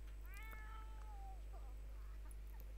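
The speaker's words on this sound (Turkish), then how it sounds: "Bizim kediler yine cırlamaya başladı." Pet cats screeching with a drawn-out, falling wail followed by shorter cries, faint and distant beneath a steady low electrical hum.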